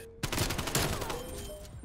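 In a video game, an AK rifle fires in several quick, loud cracks, followed by scattered distant shots and a fading tail, with no talk over it.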